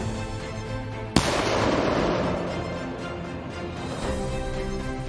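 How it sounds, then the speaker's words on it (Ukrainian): A sudden sharp blast cracks out, followed by a long rumbling roar and debris-like rushing that slowly fades over several seconds. "Вибух!"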